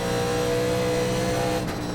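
A 1987 Legends race car at Rockingham in the iRacing NASCAR sim drones loud and close as another car passes on the low side, the engine note holding steady before dipping briefly near the end, with no talk.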